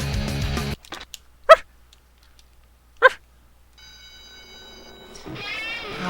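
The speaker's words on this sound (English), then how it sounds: "I hear a doggy. Woof, woof." A dog barks twice, with two short, fairly loud barks about a second and a half apart, between stretches of background music and electronic tones.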